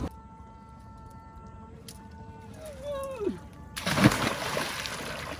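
A cast net is thrown into river water while fishing, landing in a sudden broad splash near the end. Quieter tonal whining sounds come before it, and a soft wash of water noise follows the splash.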